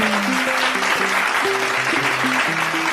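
Guests at a traditional Rakhine wedding ceremony applaud in a steady wash of clapping while a melodic instrumental tune plays beneath it.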